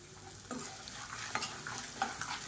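Red chilies and asafoetida fry in a pan for temple-style puliyodharai, giving a steady close sizzle broken by a few sharp stirring clicks and scrapes, with no talking.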